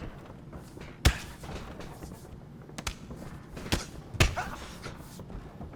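Sharp, heavy thuds of a knockout kick and body impacts in UFC 5 hit a few times over a low crowd-like background, each impact loud and abrupt.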